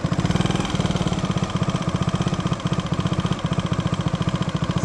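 Motorcycle engine running steadily while riding through Tokyo at night, a loud, close, rhythmic low throb that pulses continuously with slight dips as the throttle shifts.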